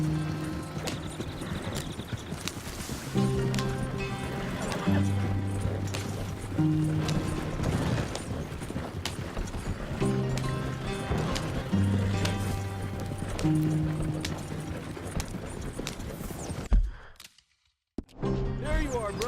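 Horse hooves galloping in the Red Dead Redemption 2 video game, a steady clip-clop rhythm under tonal game music, with a brief near-silent dropout close to the end.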